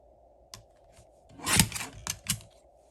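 Scissors cut through cardstock for a card layout, giving a few short close snips and a brief rasping cut.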